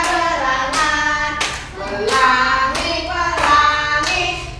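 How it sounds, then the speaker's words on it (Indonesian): Hand claps keep time with a children's song, about five sharp, close claps spaced at a steady rhythm over a sung melody. "tepuk tangan"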